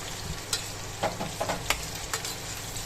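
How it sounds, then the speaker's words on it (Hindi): Okra (bhindi) tossed into a pan for a dhaba-style bhindi masala, frying with a steady low sizzle while a spoon stirs in a few scraping clinks, close and alone. "अब यहाँ ऐड कर देते हैं हम अपनी भिंडी को"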